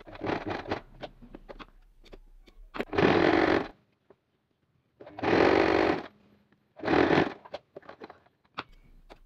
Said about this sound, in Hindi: दूसरे स्ट्रैप को भी मैं इसी तरीके से सिलाई करके बंद कर लूँगी।